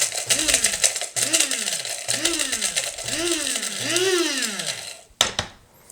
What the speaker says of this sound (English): I'm going to go ahead and put into my coffee grinder. Get my star anise in there.